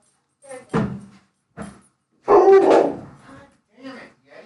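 A dog named Yeti barks indoors in short, loud bursts, close by, with a longer noisy burst in the middle, amid household sounds.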